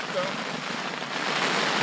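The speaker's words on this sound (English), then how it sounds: "it started to rain a little bit" Light rain patters on a tent at a mountain hunting camp in British Columbia, a soft, even hiss that builds slightly toward the end of the short stretch.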